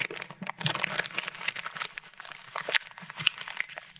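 A paper bag is crumpled by hand, giving dense, crackly rustling and crinkling bursts that continue unevenly, close and moderately quiet, with no talk.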